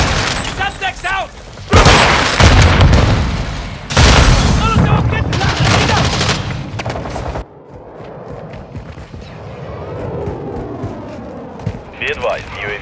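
Semtex sticky explosive detonating during Call of Duty: Modern Warfare 2 team deathmatch on the Breenburg Hotel map, with heavy booming bursts and gunfire, loud and repeated, then a quieter stretch of scattered shots and game voice callouts.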